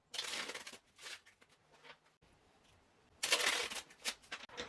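Bursts of crisp riffling and flapping as a deck of cards is shuffled close by, in two main runs separated by a quiet pause with a few soft handling sounds.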